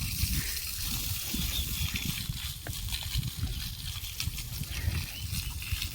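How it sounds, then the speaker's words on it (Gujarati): Water sprays from a running motor pump, giving a steady, close splashing hiss with a low churning rumble that holds at an even level for the whole stretch, with no voices. "ચાલુ કરી દીધું હડ્ડા ભાઈ પાણી છાંટવાનું"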